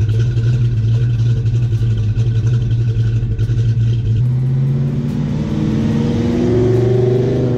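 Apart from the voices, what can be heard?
Ford Mustang pushrod V8 engine revving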